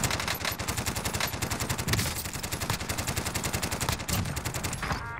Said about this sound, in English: I'm going to shoot at him with LMG.